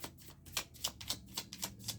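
Slippery tarot cards being shuffled by hand, a quick run of soft, crisp riffling slaps and flicks in an uneven rhythm, close and fairly quiet, with no talking.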